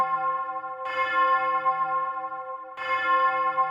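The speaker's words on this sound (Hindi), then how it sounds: "रात के 2 बजे वो 4 घंटा बजाया" A church bell tolls in a story where it is struck four times at two in the night instead of twice, its sustained ringing tone swelling in two loud, resonant strokes with long overlapping decay and no talk.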